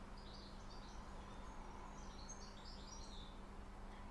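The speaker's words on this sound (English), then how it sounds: "I can hear the birds in the background." Birds chirping faintly outdoors, heard through an open door on a very hot British day, with several brief high twittering calls over a steady low background hum.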